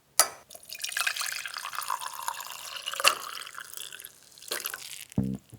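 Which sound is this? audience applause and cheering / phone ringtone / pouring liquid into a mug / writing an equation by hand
pouring liquid into a mug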